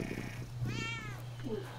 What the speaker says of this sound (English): Yes, we're gonna record Jesus' cat